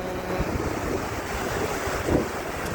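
Sea waves rushing and breaking in a steady roar, mixed with gusty wind buffeting the microphone, one surge swelling louder near the end.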